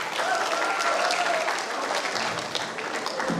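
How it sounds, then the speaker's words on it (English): A college stand-up comedy festival audience breaks into sustained clapping, fairly close and steady, with a few whistles or tones threaded through and a slight tapering near the end. "At least clap"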